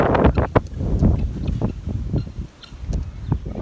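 Gusty wind roars and buffets the microphone in uneven bursts, a low rumbling rush with occasional sharper gusts.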